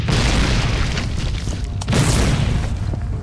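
Mortar fire and explosions in the war game Foxhole roll as loud, deep, sustained booms, one blast rumbling into a second heavy burst just under two seconds in, with no talking.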